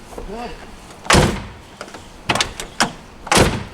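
Car doors shut with several solid thuds spread over a few seconds. A voice is heard faintly under them at the start.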